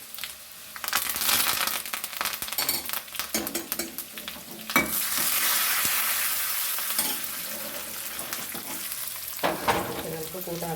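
Curry leaves, fenugreek and cut chilies sizzle and crackle in hot oil for a Kerala-style papaya erissery, with loud frying throughout, a fresh burst of spitting when more goes in midway, and stirring clatter.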